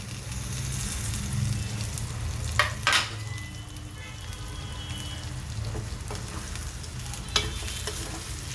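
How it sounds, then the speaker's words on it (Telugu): Fried ivy gourd is stirred into a salt, chilli and masala curry in a pan, with a steady close sizzle, occasional spoon scrapes and clatters, and no talk. "ఈ దొండకాయలకి ఉప్పు కారం మసాలా పట్టేలాగా ఒకసారి బాగా కలుపుకోవాలి."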